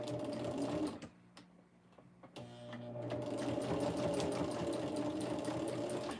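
A sewing machine with a quarter-inch foot stitches fabric in a continuous mechanical whir. It drops off briefly partway through, then resumes and runs on steadily.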